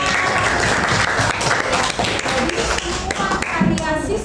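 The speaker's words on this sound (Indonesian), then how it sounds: "Tepuk tangan." Students from a junior high school applaud in a room, a dense steady clapping that stays loud through the whole stretch, with no voices rising above it.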